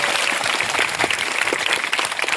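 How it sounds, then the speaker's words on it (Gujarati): A crowd at a farmers' rally claps steadily and loudly for a few seconds, a dense, even wash of applause with no voices standing out. "એ ટીમ માટે સૌપ્રથમ તો એકવાર જોરદાર તાળીઓ થઈ જાય મિત્રો"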